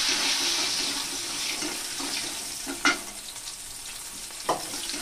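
Jackfruit seeds fry in oil with a continuous soft sizzle while being stirred, broken by two sharp scraping knocks of the utensil against the pan, close and moderately loud.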